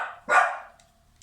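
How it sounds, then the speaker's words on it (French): A female dog gives a single sharp, loud bark close by, which fades quickly into near silence. "M'excuse pour la chienne."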